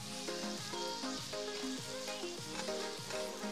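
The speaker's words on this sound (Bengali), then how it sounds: "শুটকিগুলোকে পেঁয়াজের সাথে ভাজা ভাজা করে নিতে হবে" Dried fish frying in a pan with onions, cooked with drumsticks, giving a steady sizzle and crackle throughout over a background of music.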